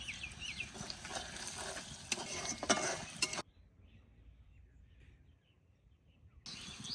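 Sliced onions fry in hot oil in a pan for a Bengali desi chicken curry, a close sizzle with stirring and utensil scrapes that cuts out sharply midway, leaving near silence before it returns.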